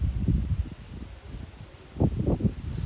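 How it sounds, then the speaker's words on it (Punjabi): Strong, cool morning wind buffets the microphone in low, rumbling gusts over farmland in Punjab after rain and a storm, swelling and easing, with a stronger blast toward the end. "ਤੁਹਾਨੂੰ ਹਵਾ ਦੀ ਆਵਾਜ਼ ਸੁਣਦੀ ਹੋਣੀ"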